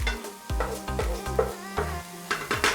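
Chopped vegetables and rice for Chinese chicken egg fried rice sizzling in a hot pan while being pushed to one side, steady frying hiss broken by repeated scraping stirs and clanks of the utensil.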